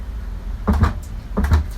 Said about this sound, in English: after I put some cans in, the door doesn't quite close